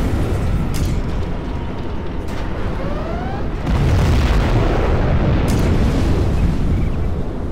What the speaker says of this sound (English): Our Scudstorm has been launched.